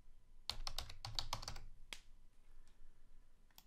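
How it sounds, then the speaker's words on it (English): A short burst of fast keystrokes clacks on a computer keyboard as a word is typed into a presentation form, followed by a single louder click and a few faint taps in near silence. "so I'll type the word secondary"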